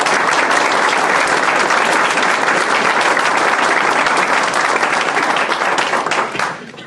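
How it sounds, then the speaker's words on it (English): A large audience at a donor appreciation and scholarship awards brunch gives sustained, dense applause, loud and steady throughout before tapering off at the very end. "Can we give them a round of applause?"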